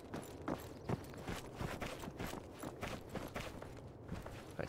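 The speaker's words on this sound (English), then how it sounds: "That's a zombie footstep." Zombie footsteps in a video game, a close run of shuffling, thudding steps falling in a steady uneven rhythm over a constant background rumble.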